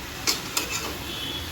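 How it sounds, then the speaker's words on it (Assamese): Bathua leafy greens fry in a pan with garlic and split green chillies, giving a steady soft sizzle with a couple of sharp utensil clinks near the start. "বুটলা শাকখিনি ভাজি বনাম তাৰপিছত জলকীয়া দুটা ফালি দিছোঁ"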